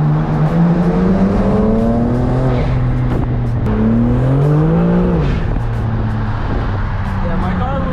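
An 800 hp BMW G80 M3 accelerates hard, its turbo and intake noise rising in sweeping pitch climbs as it pulls through gears, loud and close from inside the cabin, with people talking over it.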